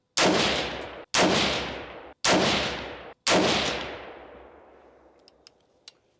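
Ten rounds from an AR rifle with a mil-spec trigger fire in four loud, sharp bursts about a second apart, each ringing out and echoing before fading.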